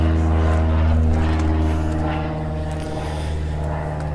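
A propeller airplane drones low overhead near an airport, a loud steady tonal hum with strong harmonics that eases slightly toward the end.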